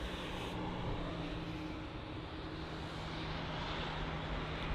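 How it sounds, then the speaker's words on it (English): An American Airlines Boeing 787-9 Dreamliner just after touching down at London Heathrow, a steady, distant low roar of jet engines with a faint hum, continuous throughout. "you've got an American Airlines 787-9 Dreamliner which has just touched down"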